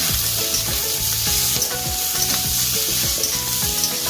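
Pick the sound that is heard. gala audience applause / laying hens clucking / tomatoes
tomatoes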